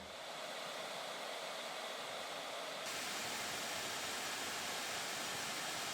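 Loud, steady cooling fan noise from a 2025 Lenovo Legion Pro 5 gaming laptop roars continuously with a broad airy hiss, growing slightly brighter and stronger partway through, with no talking.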